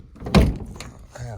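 The door of a 1970s Volkswagen bus is slammed shut: one loud, close metallic thunk followed by a brief rattle, with a voice faintly present afterward.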